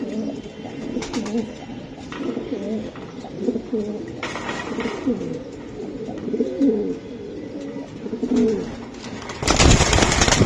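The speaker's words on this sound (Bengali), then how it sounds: "তবে স্পেশাল তো কিছু কবুতর থাকে, তার ভিতরে অন্যতম এই কবুতরটা" Pigeons of a racing and tumbler breed coo repeatedly in throaty rolling phrases, fairly close and steady throughout, with a burst of broadband noise at the very end.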